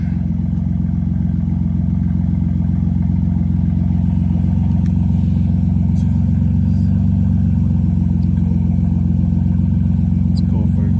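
A BMW M3's engine and exhaust drone loud and deep, steady and close throughout the drive, with people talking over the sound.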